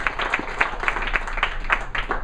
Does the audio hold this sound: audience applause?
yes